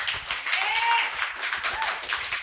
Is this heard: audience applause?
yes